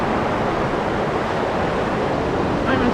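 Surf rolling onto a long sand beach at Long Bay, Jamaica, a dense, constant roar of breaking waves mixed with wind buffeting the microphone, loud and close.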